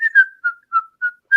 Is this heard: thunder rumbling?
no